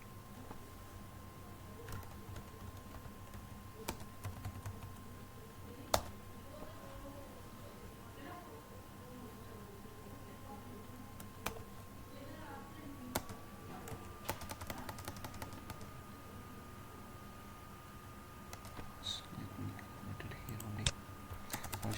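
Typing on a computer keyboard, with light, irregular key clicks running steadily through the clip at a modest level, under quiet room noise and some low background hum.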